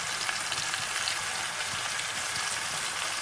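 Chicken curry seasoned with paprika fries steadily in a pan, a dense, even sizzle and crackle that holds at the same loudness throughout, with no voices.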